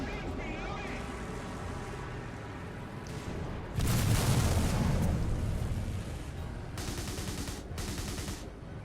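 Tank cannon fire in the War Thunder game, from a Chieftain Mk 3 engaging an IS-4: a loud booming blast near four seconds follows steady engine rumble, and sharper bursts of fire come later in the clip.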